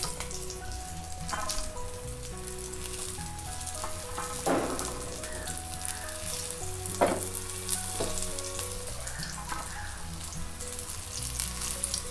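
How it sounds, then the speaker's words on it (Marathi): Pea cutlets frying in oil on a pan over a low flame, a steady close sizzle and crackle throughout with a few brief louder pops and spatula touches, no talk. "मी हे मंद गॅसवरती एक बाजू 2 मिनटापर्यंत शेकून घेणार, नंतर मग परतणार."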